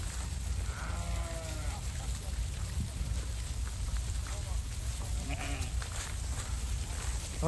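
Sheep held for sale bleat a few times, the calls fairly faint and spaced apart over a steady background hum.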